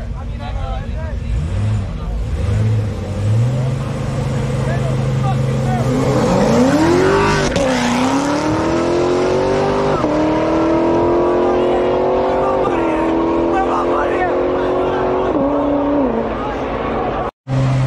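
At a race night in Mexico, a race car engine revs loudly and close, its pitch climbing and falling in repeated surges and then holding high, while a crowd chatters around it.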